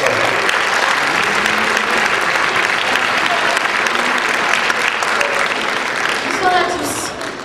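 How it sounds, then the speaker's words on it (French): Audience applause for a singer at a live artist showcase in Hénin-Beaumont, a dense, loud sustained clapping that fades slightly near the end. "Je vous laisse avec Adeline, qu'on applaudit très, très, très, très fort."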